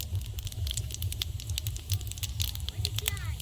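Panch phoron, a five-spice mix, spluttering in hot oil in a kadai, giving a steady close crackle of quick pops and patters with no pause.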